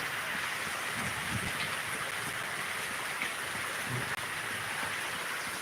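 Steady rain falls outdoors as a continuous, even hiss, dense and close, with no voices.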